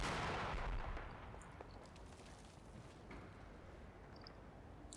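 Mortar rounds landing in a military strategy video game, a heavy boom opening loud then settling into a long rumbling, crackling battlefield wash with faint distant shots.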